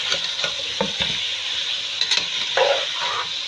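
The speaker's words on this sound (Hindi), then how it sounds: "पहले चिकन को फ्राई करूँगी मैं" Chicken frying in a pan for Shahi Korma, heard as a steady, close sizzle with occasional stirring scrapes and clinks throughout.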